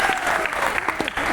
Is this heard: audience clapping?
yes